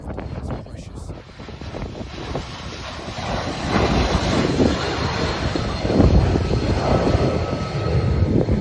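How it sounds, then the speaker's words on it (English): An airplane drops fire retardant over a wildfire, its engine roar rising and swelling amid heavy wind buffeting on the microphone, with a voice briefly heard beneath. "Plane dropping fire retardant."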